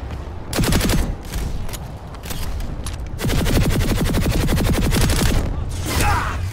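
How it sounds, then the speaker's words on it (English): Sustained automatic gunfire in the video game Planetside 2, dense rapid bursts with booming impacts, loud and continuous throughout. "Okay, who's shooting at me?"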